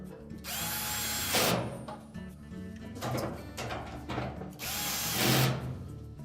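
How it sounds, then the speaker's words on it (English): A power drill drives a screw into the drum support of a Whirlpool dryer in three close, loud whirring bursts separated by short pauses of quieter handling noise. "Then we can reattach the screw at the top of that support."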